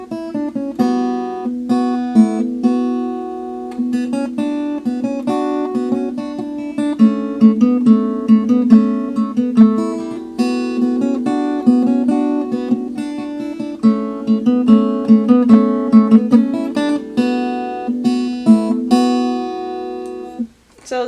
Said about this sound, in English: So that's the sound of the guitar playing the hymn to Ptah